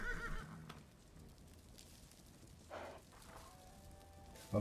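A horse in the medieval video game Life is Feudal neighs once loudly near the end, following faint clip-clop steps and quiet ambience.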